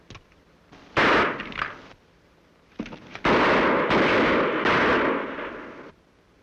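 Gunfire in a western radio drama, a few loud, close blasts with sharp attacks and rumbling tails, one burst early, then a longer heavy volley after a short gap.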